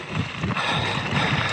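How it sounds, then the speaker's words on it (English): Wind gusting loudly across the microphone on a Coed-Y-Brenin mountain bike trail, a steady broadband rush and buffeting that fills the whole stretch with no talk. "nice and windy."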